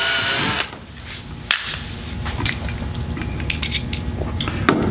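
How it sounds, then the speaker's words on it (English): A power drill boring a hole into a plastic kayak hull, a steady close whir running throughout with a brief dip near the start and small clicks and knocks over it. "And drill that second hole."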